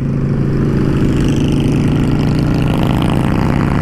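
Honda Shadow 600 motorcycle engine running steadily close up, a loud continuous low throbbing idle with a slight rise in revs toward the end, no talking.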